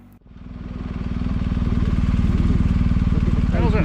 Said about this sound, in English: This thing's so quiet for a diesel, eh? the tractor.